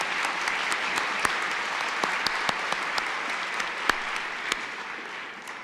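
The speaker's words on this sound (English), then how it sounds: "Let's have a round of applause for Orbit Media." A university commencement crowd applauds steadily, a dense wash of clapping with a few sharper individual claps standing out, continuing throughout without voices.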